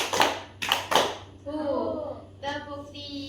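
Children in a classroom clap a second rhythmic pattern: three loud, close hand claps, then children's voices chanting, with one more clap mixed into the voices.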